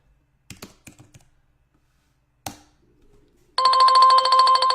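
A phone rings loudly and steadily for an incoming message, its bright electronic tone starting abruptly after a few scattered keyboard taps and clicks in an otherwise quiet room.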